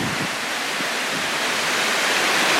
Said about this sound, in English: The wind's kicking up too.